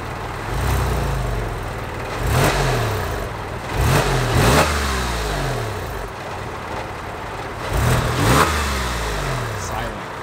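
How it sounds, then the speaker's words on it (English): Porsche 996 engine with a Sixty61 muffler bypass, revved in several sharp bursts that rise and fall over a steady idle, loud and close, with voices faintly in the background. "Give it a quick rev."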